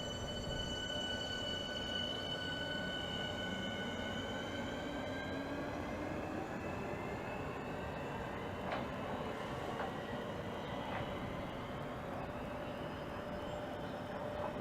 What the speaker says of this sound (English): And 465005 on the rear. And that's now departing.